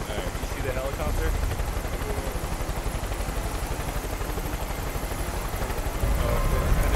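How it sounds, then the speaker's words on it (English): A helicopter flying in the video game Far Cry 5 gives a loud, continuous rotor thrum with a rapid, even chop that holds steady throughout and swells slightly near the end. "Alright, you see the helicopter?"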